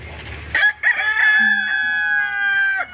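A rooster crows loudly and close by in one long drawn-out call, preceded by a few short clucks.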